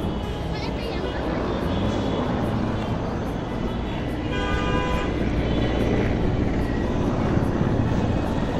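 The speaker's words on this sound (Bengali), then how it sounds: "দুটা হেলিকপ্টার চলে যাচ্ছে" Two helicopters pass overhead on a rainy day trip in Mirpur, a steady loud rotor and engine drone that fills the whole stretch, with voices talking faintly underneath.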